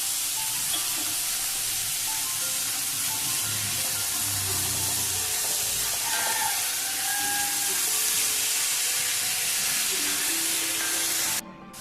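Onion sautés in a pan for a Chettinad egg curry, producing a loud, continuous hissing sizzle that holds steady and then cuts off abruptly at the end.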